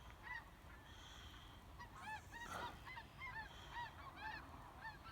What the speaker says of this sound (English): I guess they honked to get out of my way